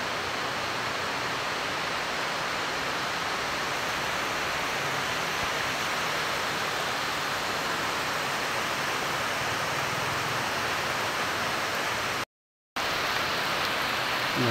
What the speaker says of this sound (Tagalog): Parang umuulan dito mga kabayan.